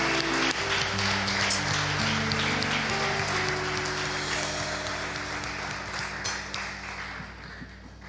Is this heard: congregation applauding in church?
yes